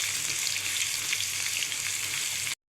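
Chicken and ginger-garlic paste fry in a hot pan with a loud, steady sizzle at close range that runs unbroken for about two and a half seconds before stopping abruptly.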